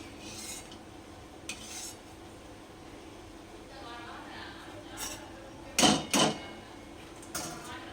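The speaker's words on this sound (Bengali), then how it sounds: "এবার আমি দেখো তেল থেকে ছেঁকে ছেঁকে তুলে নিচ্ছি" Fried nimki strips lifted from hot oil with a metal slotted spoon, giving a few sharp clinks and scrapes, loudest in a quick pair near the end, over a faint steady background hiss.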